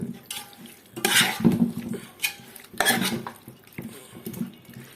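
Biryani masala is mixed by hand in a pot, with wet squelching stirs and clinks of a spoon against metal in a few uneven bursts, close and without talk.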